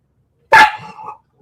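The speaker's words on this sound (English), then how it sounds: "She's got a horrible bark. Loud, way loud." A single loud, sharp dog bark bursts out close by, trailing into a short rough tail, followed by a faint extra yip at the end.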